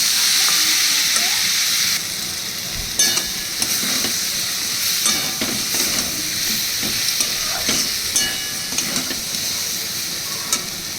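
Moong dal fries in ghee tempered with cardamom, giving a continuous loud sizzle and hiss broken by repeated scraping and clattering stirs of a spoon in the pan, with no talking.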